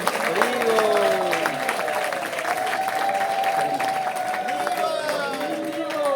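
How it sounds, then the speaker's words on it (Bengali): Audience at an ISKCON Mayapur gathering claps steadily while welcoming guests, with high warbling ululation tones rising over the continuous applause and crowd noise. "আপনারা করতালি উলুধ্বনি হরিধ্বনির মাধ্যমে স্বাগত জানাবেন।"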